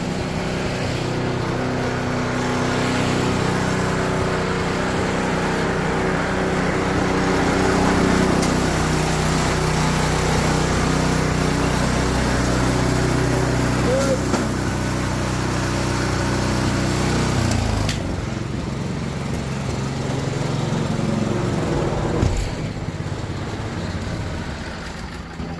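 Snow blower engine running in deep cold after heavy snow, a loud, steady, close mechanical drone that holds for most of the stretch, then dips slightly and carries on with a few bumps near the end.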